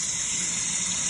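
Water gushing steadily from a tap into a portable washing machine in an RV, filling it with cold water; a continuous bright hiss holds at even loudness throughout, with no voices.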